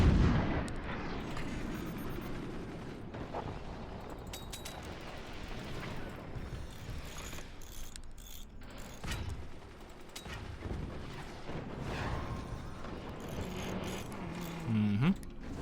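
Cannon projectiles firing in the Forts video game form a dense, continuous wash of booms and clanking mechanical noise, with repeated impacts layered over a steady rumble for the whole stretch.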